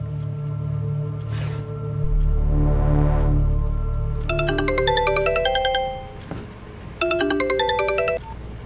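A phone plays a melodic electronic ringtone in repeated chiming note patterns, close and clear, and a low swelling tone sits beneath the ringing.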